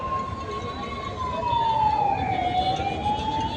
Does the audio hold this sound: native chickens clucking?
no